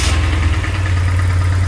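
A BMW R1150GS motorcycle boxer engine runs at a steady idle after starting, loud and close, with a deep low throb and even vibration throughout and no speech.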